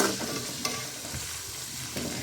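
Chicken pieces frying in a pan while being stirred, giving a continuous close sizzle with scraping spatula strokes and occasional sharper clacks.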